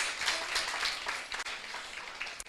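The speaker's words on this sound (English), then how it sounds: "Please, a round of applause for the Dean of Students" Short, fairly faint round of audience applause at a student orientation session, a continuous patter of clapping from a seated crowd that dips briefly near the end.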